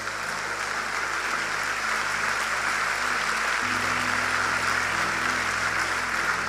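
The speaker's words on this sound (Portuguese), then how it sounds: "as palmas são de graça, pode dar" A church congregation applauds in a steady, dense wash of clapping that holds at an even level throughout, heard from within a reverberant hall.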